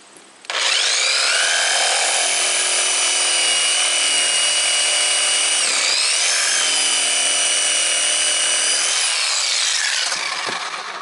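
Woodmizer LT15 sawmill band blade cutting through a log, a loud, steady high whine that starts abruptly and holds for about ten seconds with a brief dip midway before fading out.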